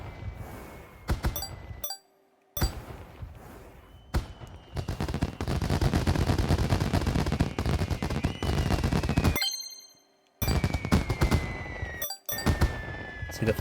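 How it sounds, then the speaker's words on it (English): Fireworks in the Nintendo Switch 2 Welcome Tour game, heard as rapid crackling bursts that form long dense barrages. Sharp pops and bright whistling tones sound between brief silent gaps. "See a firework with the Switch 2 logo."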